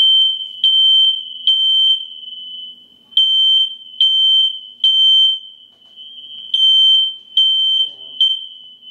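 A smoke alarm sounds a series of shrill, steady electronic beeps, near and loud, in irregular bursts of about half a second to a second separated by brief gaps, with a faint voice murmuring in the background.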